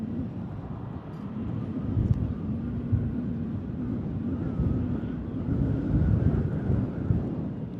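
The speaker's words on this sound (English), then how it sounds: "The wind really picking up here at Manchester." Strong wind blowing at Manchester airport during planespotting, a steady loud low rumble and buffeting across the microphone with gentle surges and no speech.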